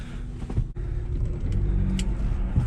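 A six-speed motorcycle running in a long second gear while it is ridden, giving a steady low engine drone that rises a little as it pulls, loud and continuous.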